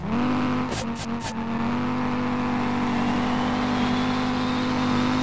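A budget drift car in the racing game SLRR holds a loud, steady engine drone near the listener, after a brief burst of three quick rattling hits at the start.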